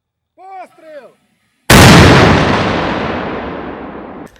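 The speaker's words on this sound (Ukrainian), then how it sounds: "Мінометники щойно відпрацювали по цілі" A brief voice, then a single loud mortar launch booms up close, its blast rolling into a long, slowly fading rumble.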